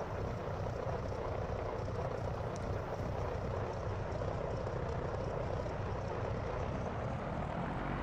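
A Nardi Riviera amphibian airplane's engine runs steadily at a runway, a continuous close, even drone that holds its level throughout with no talking.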